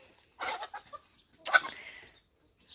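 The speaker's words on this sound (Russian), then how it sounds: "послежу за курочками" Free-ranging hens cluck outdoors in the sun on grass, in a few short, soft bursts separated by quiet pauses.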